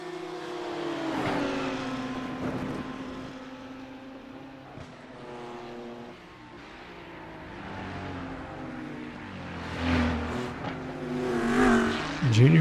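Race cars roar along a track on the final lap, engines droning and rising in pitch as they pass close by, and the pass-by swells louder toward the end.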